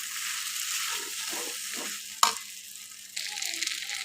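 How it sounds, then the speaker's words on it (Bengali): Pasta in tomato sauce being stirred in a pan, soft sizzling with rhythmic scraping strokes, a sharp clack midway, then brighter hissing resumes. "এখানে আমি ভালোভাবে মিশিয়ে নিচ্ছি"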